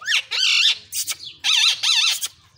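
Loud, shrill parrot squawks in three or four harsh bursts with short gaps, close by in a village courtyard where parrots are kept in cages.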